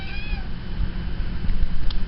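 Several kittens meowing close by, a few thin rising cries in quick succession over a noisy background.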